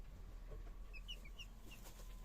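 Chickens and roosters clucking softly in a dark, quiet coop, with a few brief high calls scattered over steady low background noise.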